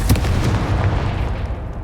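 A loud, booming blast from the Confringo spell in Hogwarts Legacy, one heavy low rumbling burst that fills the short moment on its own.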